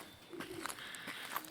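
Pigeons cooing inside the abandoned Monte Palace hotel at Sete Cidades in the Azores, a few soft low coos at moderate distance with a faint background hum, no talk.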